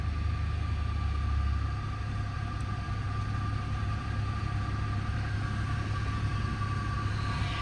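A 1999 Lexus ES300 car engine idles with a steady, even low rumble, close and continuous, with no voices.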